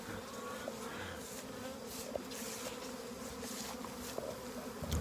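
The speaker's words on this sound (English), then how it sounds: "That's like 10 pounds of bees right there." A heavy swarm of honey bees, roughly ten pounds of them, hums in a dense, steady drone close by, with occasional sharper individual buzzes rising over the continuous insect mass.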